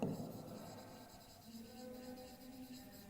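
Chalk or marker scratches across a classroom board in short strokes, quiet and close, with faint room tone behind.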